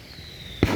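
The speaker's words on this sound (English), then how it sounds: "Grand finale firework." A grand finale firework bursts once outdoors at a backyard fireworks show, a sharp loud boom after a quiet stretch with a faint whistle, leaving a lingering rumble.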